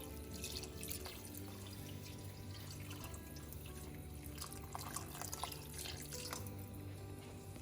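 Four cups of water poured steadily into a pot of Jamaican curry goat, a faint continuous splashing stream with small spatters, no talking.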